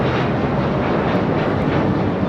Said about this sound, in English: This is Alaska Airlines Flight 6 taking off to Washington National on a 737-800